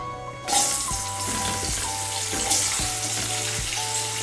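Pointed gourds (potol) fry in hot oil in a home kitchen, a steady close hiss of sizzling that starts abruptly and runs throughout, with occasional clinks of a utensil against the pan.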